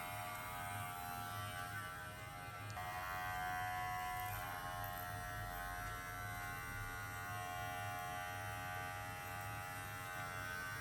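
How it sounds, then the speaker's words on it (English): Electric hair clippers set to the shortest guard buzz steadily during a self-administered haircut, a faint, even motor hum with slight swells as the blades move through hair, and no voices. "I've got the smallest clipper setting on there."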